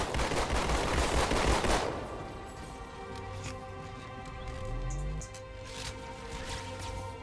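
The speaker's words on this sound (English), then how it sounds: "the firing rate for the plasma rifle" A Covenant plasma rifle in Halo 2 fires in a loud, rapid stream of shots for about two seconds, followed by quieter rising and falling electronic tones.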